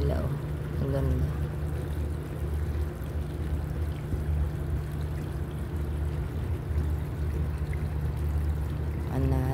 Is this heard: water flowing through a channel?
yes